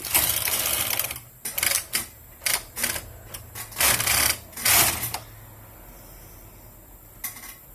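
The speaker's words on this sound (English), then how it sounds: "I'm going to push the carriage with my right hand" The carriage of a Toyota knitting machine fitted with a ribber is pushed across the needle bed. Bursts of sharp mechanical clatter and rattling come close by, separated by short pauses, then a final brief clack.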